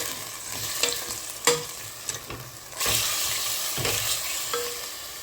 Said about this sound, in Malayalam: അതിനുശേഷം ഒരു സ്പൂൺ ഇഞ്ചി വെളുത്തുള്ളി പേസ്റ്റ് ചേർത്തിട്ട് വീണ്ടും അതിൻ്റെ പച്ചമണം മാറുന്നവരെ നന്നായിട്ടൊന്ന്